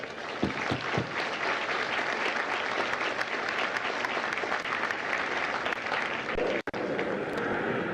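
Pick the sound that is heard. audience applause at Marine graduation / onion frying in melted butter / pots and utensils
audience applause at Marine graduation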